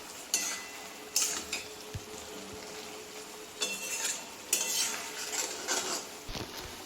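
Bitter gourd and eggplant being stirred in a pan with boiled potato and pumpkin, with clinks and scrapes of a utensil against the pan in several bursts over a faint background sizzle.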